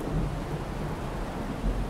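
Steady rain and a low rolling rumble of thunder in a video game storm, continuous and fairly loud, with no voices.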